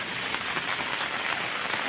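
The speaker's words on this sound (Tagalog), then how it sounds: "Ayan, may ulan na mga idol." Steady typhoon rain pours down, a dense hiss of drops drumming on surfaces nearby, constant and fairly loud with no voices; wind not yet strong.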